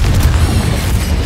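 A Confringo fire spell explodes in Hogwarts Legacy, a loud, sustained booming blast with heavy low rumble, alone without speech.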